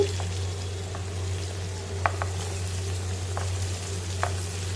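Green chillies and onions frying in a pan for bitter gourd curry, a low steady sizzle over a constant stove hum, with a few faint ticks and pops, no voices.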